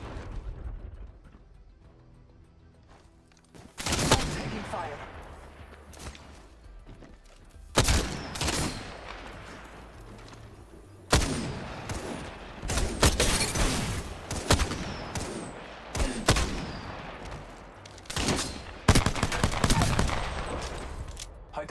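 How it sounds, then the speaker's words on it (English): Rapid bursts of gunfire from Apex Legends, a battle royale shooter, crackle loud and near in repeated volleys with brief pauses, dense automatic fire mixed with heavier impacts over a low background rumble, no talking. "shots fired and they're hitting me!"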